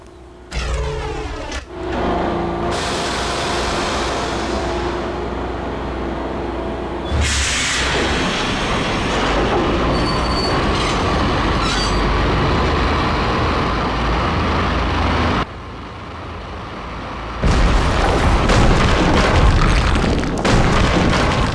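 A train in the Max Payne video game gives a continuous heavy rumble and rolling clatter, broken by abrupt booming shifts and louder surges, with no voices.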